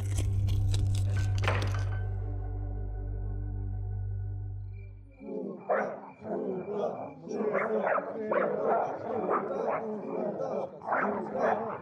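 A dog barks repeatedly in a rural setting, a run of sharp, close barks that starts after a few seconds of steady droning tone, with someone speaking at times.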